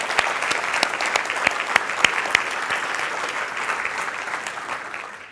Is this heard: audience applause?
yes